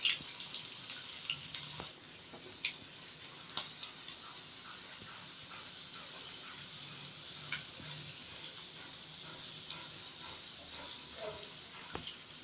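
Potato-stuffed bread rolls frying in oil over a high flame give a faint, steady sizzle with scattered small pops and crackles throughout.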